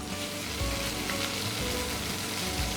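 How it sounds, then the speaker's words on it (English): Chili paste and belacan paste sauteing in hot oil give a loud, close, steady sizzle with faint stirring beneath it, and no voices. "I'm going to continue sauteing it."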